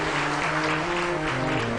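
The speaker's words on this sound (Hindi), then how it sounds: "तो ताली में फिर इतनी कंजूसाई क्यों?" Audience clapping during a Hindi Ram Katha religious discourse: a dense, steady wash of hands filling the hall, with a faint voice or music tone held underneath.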